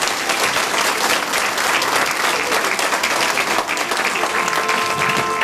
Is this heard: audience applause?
yes